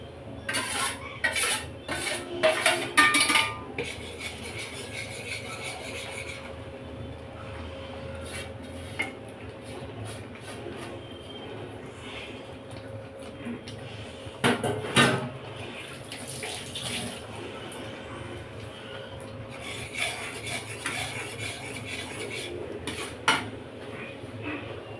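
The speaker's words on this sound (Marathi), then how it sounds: "तर ह्याच्यामध्ये रवा टाकून घेऊया. हलवत राहायचं असं, नाहीतर रव्याच्या गुठळ्या तयार होतात." Semolina (rava) being stirred into boiling water in a pan for mango sheera, with clattering spoon-on-pan scrapes and knocks in bursts over a low bubbling hiss, close and without talk.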